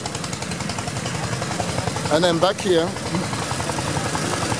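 An engine-driven water pump runs at a fish farm in Ilorin, Nigeria, giving a steady, loud mechanical drone throughout while a person talks briefly over it in the middle.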